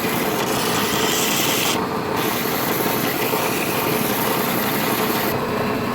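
A wooden knife handle is sanded against a spinning sanding disc in a blacksmithing shop, giving a steady, loud abrasive rasp over a continuous motor whir, with brief breaks in the grinding as the wood is lifted away.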